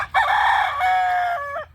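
A rooster crows once, loud and close, a single drawn-out cock-a-doodle-doo of nearly two seconds against quiet low background noise, outdoors where fish are being cleaned.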